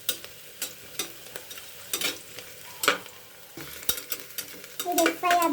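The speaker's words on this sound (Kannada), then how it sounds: "ಈರುಳ್ಳಿ ಹಾಕ್ತಾಯಿದ್ದೀನಿ. ಇಲ್ಲಿ ಚೆಂದ ಫ್ರೈ ಆಗಬೇಕು." Onions fry in a pan for mushroom biryani, soft sizzling broken by repeated scraping stirs and clinks of a spatula, close and unaccompanied by speech.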